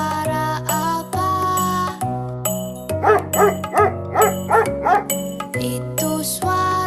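A dog barks several times over a bouncy, jingly children's tune with bell-like notes.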